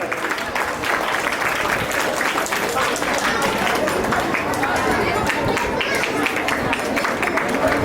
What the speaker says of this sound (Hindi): तालियां बजानी होती है।